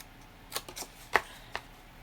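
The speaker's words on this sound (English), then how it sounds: "I'm going to cut off these two corner squares," Scissors snip through cardstock at the corners of a stamped card-making project, a few separate sharp clicks and crisp cuts close by with quiet pauses between them.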